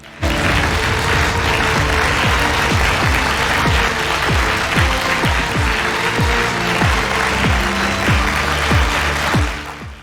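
Sustained, dense applause from a large crowd in a TV drama scene, loud and steady for about nine seconds before tapering off, with scattered sharp thumps and booms under the clapping.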